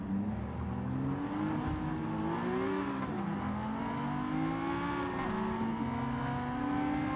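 An engine revs hard in a racing video game set around an XJ and a Porsche, its pitch climbing and falling through gear changes in a continuous loud drone with no talking.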